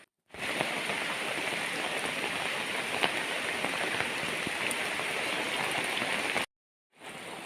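Steady heavy rain pours with a dense rushing hiss as muddy water runs down a road like a stream, unbroken for several seconds before a brief gap.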